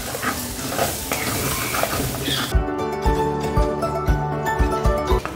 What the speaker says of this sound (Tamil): இப்போ இதே எண்ணெயிலேயே 2 முட்டையை உடைச்சு ஊற்றிக்கிறேன்.